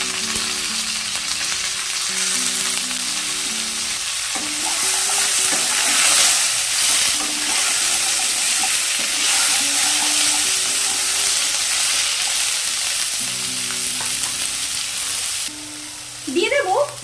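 Potatoes and cut drumstick vegetable pieces frying in a pan, a steady loud sizzle and hiss with occasional stirring scrapes throughout, no voices.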